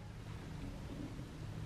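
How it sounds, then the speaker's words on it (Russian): Rain falling outside a home, a steady, faint, even hiss of drops with no talking over it. "Дождь идет."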